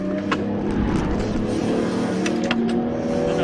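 BMW M3 Compact on the Zolder circuit accelerating out of a chicane: a steady, close engine drone with rising harmonic tones under modulated throttle, plus faint clicks and tire noise, no voices.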